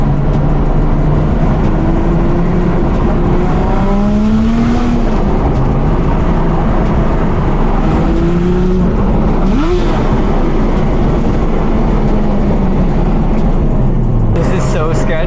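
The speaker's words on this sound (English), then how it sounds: "This car sounds so good." A Toyota MR-S engine revs hard while driving, its pitch rising and dropping through several gear changes in a loud, close, continuous drone, with a voice briefly talking over it.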